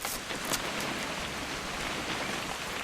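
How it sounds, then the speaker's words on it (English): Rain falls in the video game What Remains of Edith Finch, a steady, even hiss of droplets on surfaces, moderately quiet and unbroken, with no talk. "It's gonna rain the whole weekend,"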